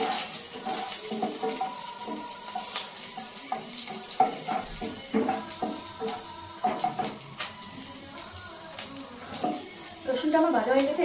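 Chopped garlic and green chillies frying in a pan for a pasta dish, a steady sizzle with scattered stirring clatter, heard alongside a person talking.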